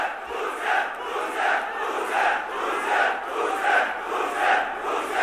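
A large crowd at a JJP political rally in Jind, Haryana roars and shouts in rolling, rhythmic waves, loud and steady throughout with no clear speech over it.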